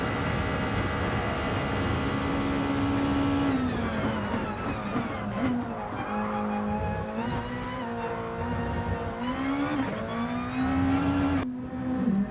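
A Nissan GR.2 race car in Gran Turismo Sport, racing in a VSS GR.2 championship round, drones with a continuous loud engine note that rises and falls as it shifts and accelerates through corners, with no talk over it.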